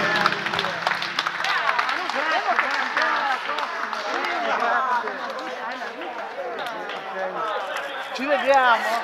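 Studio audience applauding a young woman guest on an Italian television show, a steady wash of clapping mixed with cheers and chatter, with voices carrying over it throughout.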